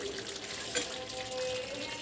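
Dal tempering sizzles in a hot pan, a continuous close crackle and hiss with a brief louder spit partway through, no voices over it.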